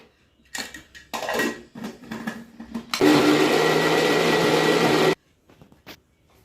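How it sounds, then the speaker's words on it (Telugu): A mixer grinder whirs loudly for about two seconds, grinding cooled sweet purnam filling for an Ugadi festival dish, with a few clatters and handling knocks before and after the steady motor roar. "పూర్ణం అయితే మిక్సీకి వేసేసుకుందామండి"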